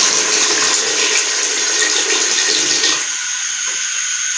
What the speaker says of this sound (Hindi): तकरीबन 2 गिलास पानी हम इसमें डालेंगे।